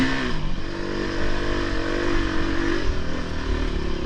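A four-stroke enduro motorcycle with a large silencer runs nearby, its engine droning with steady low harmonics, slight rises in revs and some mechanical clatter, no talking.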